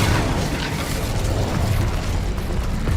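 The Incendio fire spell cast in Hogwarts Legacy, a loud booming, rumbling burst of flame with a heavy low roar that sustains for the whole moment, with no talk over it.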